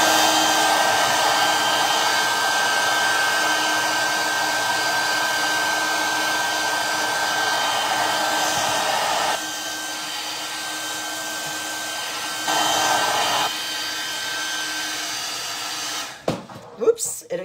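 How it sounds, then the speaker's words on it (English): An old hair dryer blows steadily with a whining, airy hum, briefly dipping and surging, then switches off near the end with some clattering handling. "I need to get that old blow dryer"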